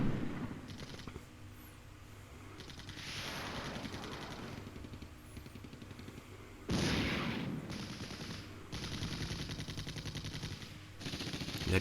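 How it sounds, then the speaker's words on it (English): Bursts of gunfire and tank cannon shots crackle in the wargame Flashpoint Campaigns: Red Storm, as T-80 tanks return fire in repeated loud volleys with brief quieter gaps between them. "The T-80s are returning fire now"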